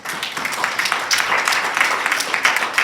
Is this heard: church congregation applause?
yes